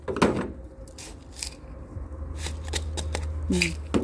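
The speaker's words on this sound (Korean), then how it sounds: "흙이 많이 들어가게 꼭꼭 눌러주세요." Potting soil is pressed firmly down by hand into a plant pot around an Onyx succulent, giving close, dry scratchy rustles and crunches in short bursts, with no talking.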